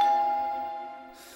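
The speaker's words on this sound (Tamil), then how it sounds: "இப்ப காலிங் பெல் வேற அடிக்கணுமா?" A doorbell gives a single sustained electronic chime that fades out steadily over about a second, heard alone in a quiet indoor scene from a Tamil television serial.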